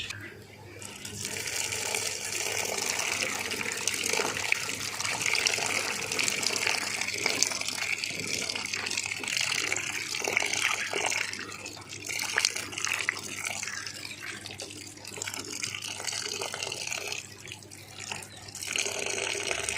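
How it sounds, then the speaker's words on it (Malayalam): Water sloshes and splashes continuously as star fruit is rinsed and swished around in a basin, fairly close and steady throughout. "ഞാൻ കുറച്ച് വെള്ളത്തിൽ ഇട്ടിട്ടുണ്ട് അപ്പോൾ നമുക്ക് നന്നായിട്ടൊന്ന് കഴുകിയെടുക്കാം"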